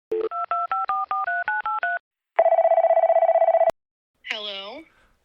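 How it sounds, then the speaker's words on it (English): Telephone being dialed: a quick run of about ten DTMF keypad tones, then a long buzzing ring tone, a sharp click and a brief warbling sound, loud and clear. "we're going to get Scruffy to call my offspring Rory on the phone"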